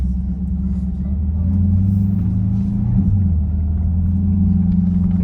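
A Corvette GT4 R race car sets off, its engine a loud, steady low rumble and drone filling the cabin throughout, with only slight swells and no clear revving.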